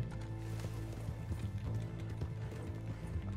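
Horse hooves clop in a rapid, steady rhythm in the Red Dead Online video game, a continuous galloping patter heard moderately close and somewhat muffled.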